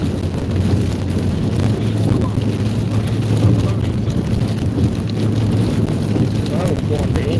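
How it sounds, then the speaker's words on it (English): Strong 40 to 50 mph wind gusts buffet the side of a car during storm chasing in Oklahoma, a constant roaring rumble and microphone wind noise running throughout, with voices talking in the car. "We got at least 40 and 50 mile an hour gusts hitting the side of the car."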